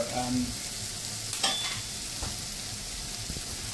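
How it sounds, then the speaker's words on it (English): A spoon stirs around a pan over a steady frying hiss, with a few brief scrapes and clinks, fairly quiet and close, brown sugar and cinnamon nearby for a spiced apple cake. "Just going to stir it around really quickly."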